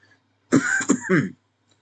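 A single close cough broken into three quick harsh bursts, throaty and loud against a quiet background.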